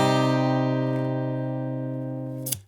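Guitar chord strummed once and left ringing in a song lesson, a clear sustained chord fading slowly, ending with a short scrape as the strings are muted.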